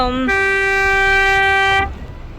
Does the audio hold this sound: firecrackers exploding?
no